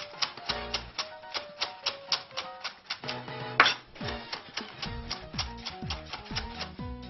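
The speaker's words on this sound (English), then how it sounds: "just go ahead and give that a good dice, stalks and all" A kitchen knife dices a fresh leafy herb, stalks and all, on a cutting board while making Mexican meatloaf, giving a steady, even rhythm of quick, crisp chops at close range with no talking.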